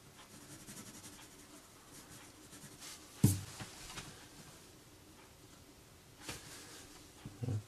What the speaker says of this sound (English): Just using the end of the pencil.